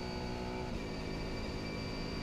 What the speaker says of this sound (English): enjoy the sound of this V12 Aston Martin